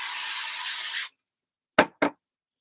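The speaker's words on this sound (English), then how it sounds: "Give that a spray." Spray glue hisses from a can onto the back of a piece of card in a box, one steady close burst about a second long, then silence and two short rubbing strokes.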